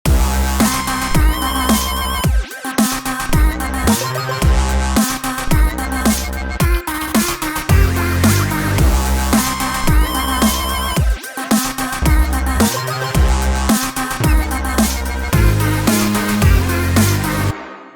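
A loud dubstep drop track made in GarageBand, with heavy synth bass and punchy beats, brief gaps before drops, playing continuously with no voices.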